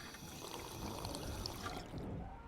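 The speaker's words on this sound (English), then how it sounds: "Okay, water." Steady running water in Ghostbusters The Video Game, a continuous broadband rush of pouring liquid that holds even and fairly close for the whole stretch, with no voices over it.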